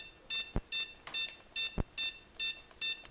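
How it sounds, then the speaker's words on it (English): An RC car's Toro electronic speed controller, in a TT-01 model, beeps in calibration mode: seven evenly spaced, bright electronic tones in a steady rhythm, with two short low thumps between them, close and clear with no talking. "you keep holding it down until it starts going into beeping mode"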